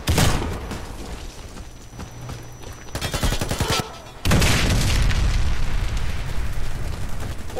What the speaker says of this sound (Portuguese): O inimigo detonou a bomba.